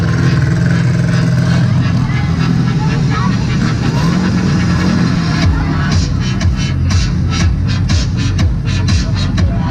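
Stunt vehicle at a monster truck show in France, its engine revving and rumbling loudly under a continuous announcer's voice, with crowd noise and clattering bursts building toward the end.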